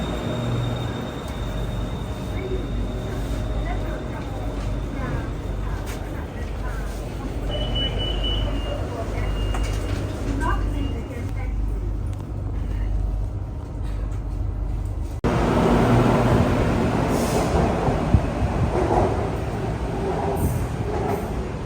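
A Bangkok BTS Skytrain rolls into a Sukhumvit station and carries passengers on, a steady low rumble and rolling clatter that grows louder later as the ride continues, with a voice talking over it at times.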